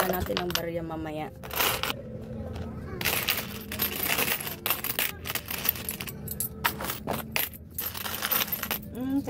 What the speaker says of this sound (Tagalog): Habang naghihiwalay ako ng mga barya sa mga 5, 10, 20, tsaka piso.